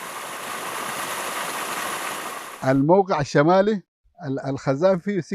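Water flows steadily from a spring opened in 2004 in the El Gaab region, fed by an aquifer, a broad rushing hiss that fills the first half before a voice takes over and the water drops away.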